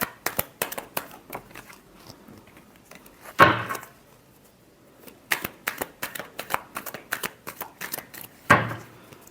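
A deck of tarot cards being shuffled up close during a reading, giving a rapid series of crisp riffling flutters in quick bursts, with two fuller, heavier shuffles and short pauses between, and no speech.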